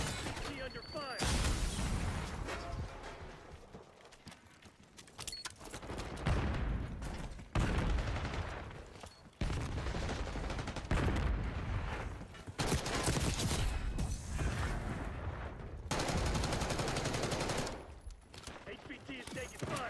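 Rapid automatic gunfire in the shooter game Black Ops 6, dense sustained bursts with brief gaps, loud and close, with a game announcer's voice now and then over the shooting.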